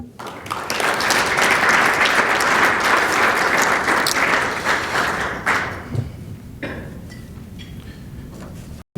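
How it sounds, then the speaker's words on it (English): A large conference audience breaks into sustained applause, loud and dense for about five seconds before thinning into scattered claps and fading, with no talk over it. "All right, round of applause."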